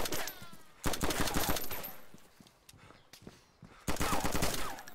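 Rapid bursts of automatic gunfire in the DayZ video game crackle in two loud volleys separated by a quieter stretch with scattered single shots.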